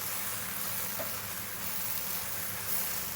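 Bolognese sauce sizzling in a hot pan as it is stirred, a steady close frying hiss with faint scraping, no voices, while pasta is cooked in bulk.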